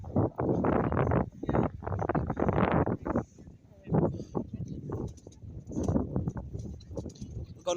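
Gusty seaside wind buffets the microphone on Llandudno pier in Wales, loud rumbling bursts that rise and drop irregularly, with faint seagull-like calls in the distance.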